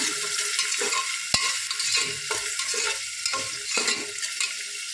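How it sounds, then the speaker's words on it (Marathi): Onion and curry leaves sautéing in a pan for a mutton curry, a dense continuous sizzle with regular scraping strokes of a spoon, close up and alone. "कढीपत्ता टाकायचा कांदा चांगलं परतून घ्यायचं"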